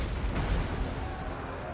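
Massed volley fire from infantry units in a Warhammer 2 battle, a dense rumbling burst of gunshots and booms that stays loud and continuous throughout with no clear gaps.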